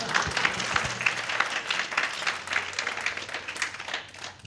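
A room full of listeners bursts into applause during a talk on marriage, with brisk clapping rising and falling in waves and a few voices under it.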